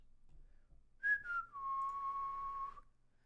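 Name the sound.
person whistling, imitating the sad Naruto flute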